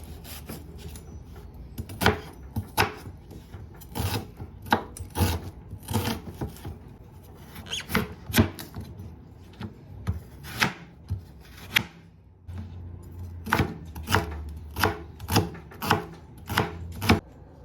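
Knife chopping onions, carrot and celery on a board, a steady run of sharp close taps in irregular bursts with brief pauses between.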